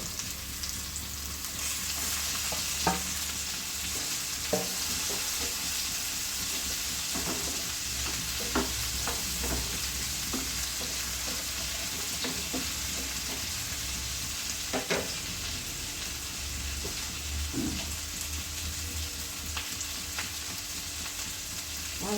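Onion, bitter gourd, tomato and green chilli fry steadily in a pan for a Kerala theeyal, a continuous close sizzle broken by scattered clicks and scrapes of stirring, with no talking.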